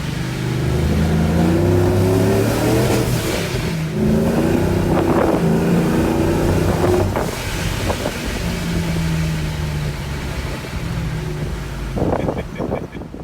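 A supercharged single-cab Chevrolet Silverado revs hard through the gears, its loud engine note rising in pitch, dropping at each shift, then climbing again, with wind noise over the microphone for roughly thirteen seconds.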